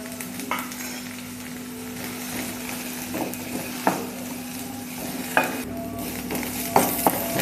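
Lengthwise-sliced onion fries in a little oil in a kadhai, giving a gentle, continuous sizzle over a low steady hum. Sharp spatula clicks and scrapes against the metal come every second or two, and no one speaks.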